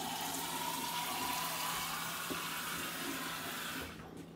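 Steady broadband rush of water running from a kitchen tap, continuous and fairly close for about four seconds, then tapering off as the flow is shut.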